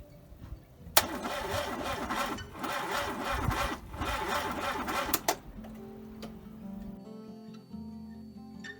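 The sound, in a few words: car engine cranking as the ignition key is turned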